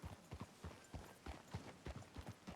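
Horse hooves clip-clop at a steady walking rhythm in the Red Dead Redemption 2 video game, a moderately close, even series of hoof strikes on a frontier town street.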